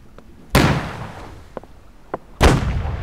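Ship cannons fire broadsides in the Holdfast: Nations At War naval battle: two heavy booming volleys with long rumbling tails, a few sharper distant shots between them, and no talking.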